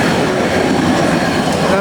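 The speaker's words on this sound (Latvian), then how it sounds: "Tad tramvajs aizbrauca tikko." A tram pulls away on a city street, a steady, loud rumble of wheels and motor rolling past close by, with faint clattering over the rails and no talking.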